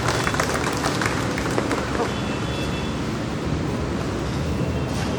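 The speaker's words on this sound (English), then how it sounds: "Please give them a big round of applause." Outdoor crowd applause after a student fire mock drill at an Independence Day celebration: a dense, continuous wash of clapping lasting several seconds, fairly loud and steady, with wind-like noise mixed in.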